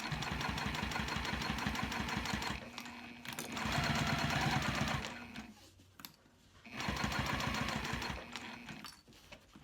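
A sewing machine stitching leather in steady bursts of rapid mechanical stitching, pausing briefly between runs, close and fairly loud.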